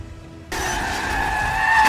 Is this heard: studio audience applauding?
no